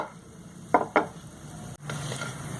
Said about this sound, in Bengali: তেল গরম করে ছোট ছোট বড়ি ভেজে নিলাম।